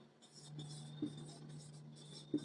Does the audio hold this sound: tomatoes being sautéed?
no